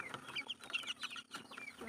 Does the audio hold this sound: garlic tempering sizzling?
no